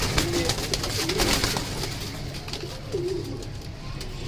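Soft pigeon coos repeat a few times over a noisy background, with faint rustling and wing flutter.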